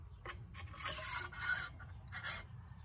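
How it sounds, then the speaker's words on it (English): A metal dovetail on a table leg mounting plate slides along its groove in a truck camper: short, faint scraping rubs repeated a few times over a steady low background hum. "Mounting plate, the little dovetail slides in this groove here."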